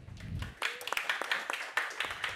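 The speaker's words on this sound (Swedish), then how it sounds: "En applåd." A seminar audience at an outdoor event week claps, starting after a brief low murmur and settling into a sparse, uneven run of individual claps at moderate distance.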